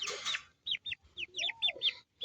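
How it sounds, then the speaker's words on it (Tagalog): Pet chickens clucking up close in a quick series of short, separate calls, with brief pauses between them and one longer rising call near the end. "It's my chickens"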